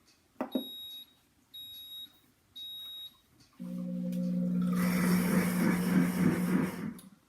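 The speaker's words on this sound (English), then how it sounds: "So it's going to do the same thing. It's going to blend. It's going to heat the water." Pampered Chef Deluxe Cooking Blender started on its heated wash cycle: a click, three short electronic beeps, then the motor whirs up and swirls water with a loud, steady churning roar.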